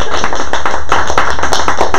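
Audience applause during a church service, a loud dense burst of claps with sharp rhythmic accents, filling the room steadily from start to finish.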